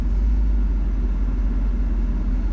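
A 1991 Mercedes-Benz 500SL with its 5-liter M119 gasoline V8 idles with the hood open, a loud, steady, deep rumble with no variation in pitch and no talking.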